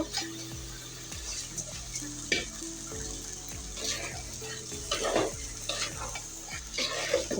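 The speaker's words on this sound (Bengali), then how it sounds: "চালটা আমি ভালো করে ভেজে নেব" Rice grains frying with ginger and garlic for pulao, stirred repeatedly so a spatula scrapes and rattles through a steady sizzle, close and clear, with no talking.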